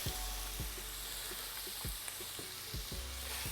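Shrimp cooking in a pan for garlic butter shrimp, a soft continuous sizzle with a series of low regular thumps beneath it.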